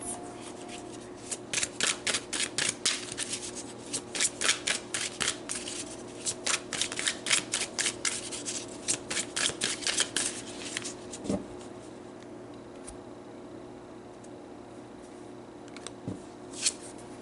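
Tarot cards are shuffled in quick repeated riffling bursts for several seconds, then a few isolated card snaps and slides as cards are drawn, close and clear without speech.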